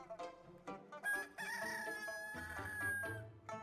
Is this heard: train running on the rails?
no